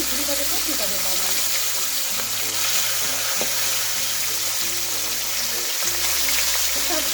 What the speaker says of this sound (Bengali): এখন একে একে মাছগুলো দিয়ে ভেজে নেবো, একদম ঝুরি ভাজা করে নেবো।